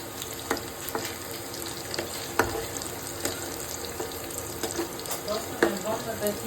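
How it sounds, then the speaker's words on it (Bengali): Boiled chana and toor dal fry in a pan with a steady sizzling hiss, broken by occasional stirring knocks and clinks at close range. "अच्छा से फ्राई होने दो"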